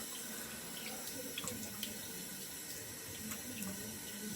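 A bathroom tap runs steadily into a sink during a wet shave to rinse off shaving lather, a constant close hiss of flowing water with faint splashes, no voices.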